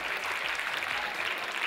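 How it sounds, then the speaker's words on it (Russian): Audience applause at a KVN comedy contest, a brief, dense, even patter of many hands clapping at moderate volume without pause. "ваши аплодисменты!"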